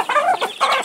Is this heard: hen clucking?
yes